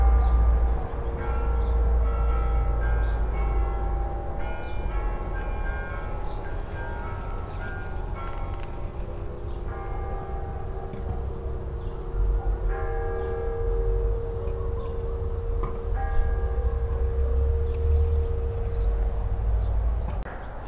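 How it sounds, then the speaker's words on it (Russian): Church bells peal steadily in overlapping tones, ringing continuously with a low rumble beneath, moderately distant and without any voices. "слушаем перезвоны колоколов, если вам слышно"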